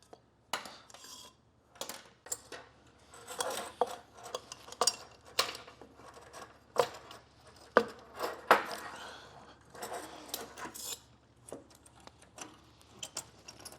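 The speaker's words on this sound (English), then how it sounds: "Then we'll go ahead and slide the clamp on the boot." A metal hose clamp slides onto an intercooler boot on a Second Gen Cummins, with scattered light metallic clinks, taps and scrapes in a steady run of brief handling noises, close and fairly quiet.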